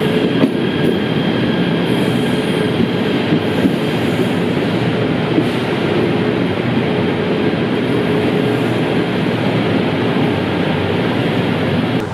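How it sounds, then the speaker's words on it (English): A long-distance KTM train in Malaysia rumbles steadily and loudly nearby as it arrives at a station, with continuous rail noise and faint metallic clatter. "train has arrived. Okay, that's our KTM train."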